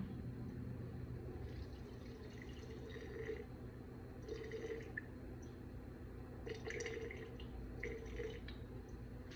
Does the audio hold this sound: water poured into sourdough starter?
yes